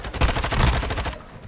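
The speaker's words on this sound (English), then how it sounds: "now being suppressed by that gunfire" Rapid burst of automatic gunfire from a Call of Duty match at a LAN finals, loud and close, a dense string of cracking shots lasting over a second before cutting off.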